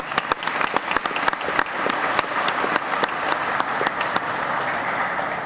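An audience at a legislative event in Minnesota applauds a state representative, with dense continuous clapping and a few sharp nearby claps standing out, steady for several seconds with no talk.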